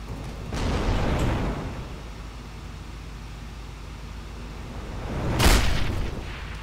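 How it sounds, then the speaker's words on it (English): Guided rocket launcher firing missiles in the sandbox game People Playground, giving two booming blasts, the second sharper and louder, over a low continuous rumble with no talking. "This right here is a missile gun, or as some people call it, an RPG. See, this is a guided rocket launcher"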